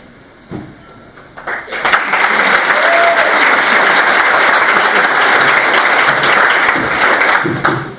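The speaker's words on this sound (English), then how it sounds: "join me again in a round of applause" Applause from a packed room at a fall semester faculty and staff meeting builds quickly after a few opening claps into loud, sustained, dense clapping, then tapers near the end.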